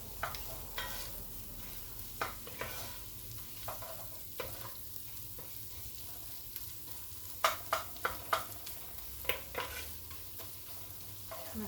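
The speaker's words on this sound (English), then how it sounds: "you want to just stir this up till the tomato paste starts to brown" Onions and tomato paste stirred in a pan, with a soft continuous sizzle under repeated scraping clicks of the spoon. No one speaks.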